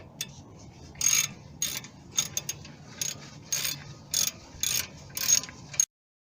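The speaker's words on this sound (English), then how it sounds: "We're just going to throw in this socket wrench in here." A socket wrench ratchets a hex nut on the rear brake caliper of a 2007 Mazda 3, giving a run of sharp clicking bursts in uneven rhythm, close and fairly loud, with no talk.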